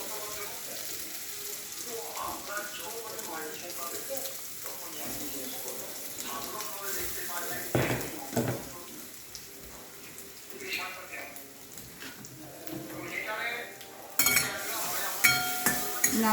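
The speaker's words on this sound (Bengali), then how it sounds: "নারকেলটাকে ভেজে নেব।" Grated coconut fried in a pan after a paste of coconut, ginger, green chili and fennel, stirred with a metal utensil that scrapes and clinks irregularly against the pan, with a voice talking at intervals.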